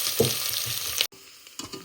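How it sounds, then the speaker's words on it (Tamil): Loud sizzling of cardamom, cinnamon, cloves and onion hitting hot oil for chicken curry, a continuous crackling fry with stirring, cutting out briefly before quieter sizzling resumes. "அந்த கொதிச்ச எண்ணெயில் கொஞ்சம் எடுத்து தாளிக்கிறதுக்கு ஏலக்காய் கருவாப்பட்டை கராம்பு வெங்காயம்"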